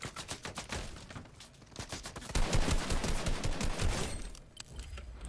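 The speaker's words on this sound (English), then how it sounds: "People shooting from the hill?" Rapid bursts of automatic gunfire rattle almost continuously in a shooter video game, some shots near and loud and others more distant, with no talking over them.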